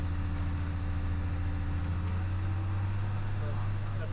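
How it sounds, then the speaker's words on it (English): A tractor in its lowest gear powers a bale buster through the PTO while feeding sheep, giving a loud, steady engine drone with a strong low hum and machinery rattle that fills the whole stretch. "tractor in the lowest gear possible."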